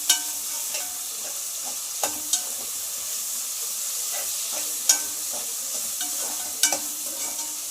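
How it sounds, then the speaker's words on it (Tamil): Onions and curry leaves frying in a pan for chicken dry masala, a steady close sizzle with scattered spatula scrapes and clinks as they are stirred, no voices. "வெங்காயம் போட்டுக்கலாம். கொஞ்சம் கருவேப்பிலை போட்டுக்கலாம்."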